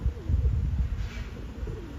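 A smoky-coloured male pigeon coos in low, soft rolling phrases, close and repeated, with faint background noise.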